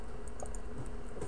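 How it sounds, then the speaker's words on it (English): Quick computer mouse and keyboard clicks during a Minecraft session, a few light, close taps over a low steady background hum. "And I just double click"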